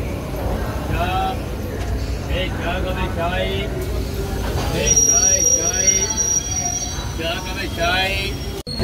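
A train rolls slowly into Kharagpur Junction, its steady rumble joined by rising, drawn-out metallic wheel squeals, with people talking nearby over the noise.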